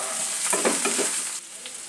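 Eggplant cut into fairly large pieces fries in a pan with softened tomato, giving a steady broadband sizzle with soft stirring scrapes that ease off near the end.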